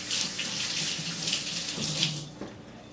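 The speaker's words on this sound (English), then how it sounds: "Let me wash my hands." Tap water pouring steadily into a kitchen sink during handwashing, a close continuous splashing rush that cuts off near the end.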